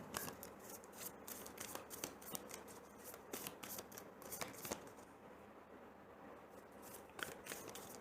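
Tarot cards are shuffled by hand, a steady run of close riffling and flicking with brief pauses between bursts, soft overall and with no talking.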